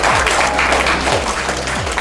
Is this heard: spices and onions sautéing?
no